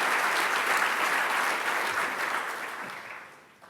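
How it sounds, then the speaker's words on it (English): An audience applauds graduates of a Bachelor of Science in Quality for Industry programme at a college graduation ceremony, producing steady, moderately distant clapping that tapers off toward the end. "Can I ask the graduates of the Bachelor of Science in Quality for Industry programme to please stand to receive their applause."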